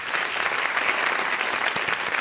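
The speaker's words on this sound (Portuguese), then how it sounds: "Pode aplaudir." Studio audience applause on a Brazilian talk show, dense steady clapping filling a couple of seconds without voices.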